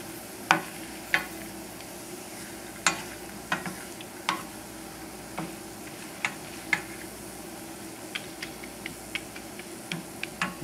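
Mushrooms and pignoli nuts in hot oil with the flame off, a steady soft sizzle broken by scattered sharp pops and crackles, close and unaccompanied.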